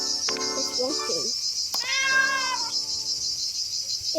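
A cartoonish cat in a video game meows a few times, with short pitched calls over a bright electronic background hum.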